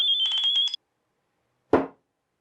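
A high, fluttering electronic tone from a phone, a sound-wave pairing signal for a camera, chirps for under a second, then after a short silence a brief broadband burst follows, close and fairly loud.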